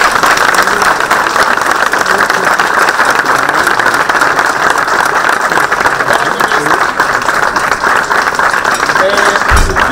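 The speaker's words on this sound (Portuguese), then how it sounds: "E uma salva de palmas para o Celestino," Loud, continuous crowd applause at an outdoor historical re-enactment of Dom Afonso III granting a town charter; dense, even clapping fills the whole stretch with steady intensity and crowd murmur underneath.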